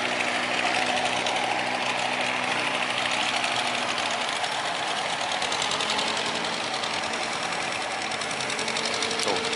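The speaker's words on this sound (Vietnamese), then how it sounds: "Cái máy của anh trong này máy lớn nè" A large boat engine churns on a busy, fast-flowing river in a steady, rapid mechanical clatter, loud and continuous throughout, with no voices heard.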